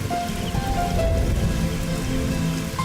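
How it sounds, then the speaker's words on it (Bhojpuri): Heavy rain pours down in a dense, steady roar of drops striking surfaces, loud and continuous with no voices. "देखा कितना जोर से बारिश हो रहा बा"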